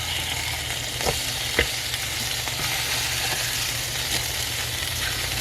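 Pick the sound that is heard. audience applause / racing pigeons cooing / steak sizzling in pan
steak sizzling in pan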